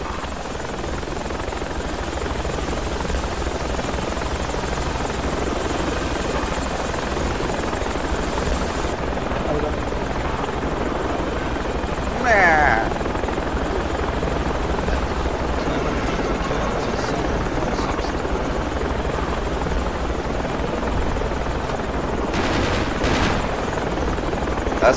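A helicopter flies in the Project Reality video game, with dense, loud rotor and engine noise holding steady throughout, close up, and brief louder bursts and distant gunfire mixed in.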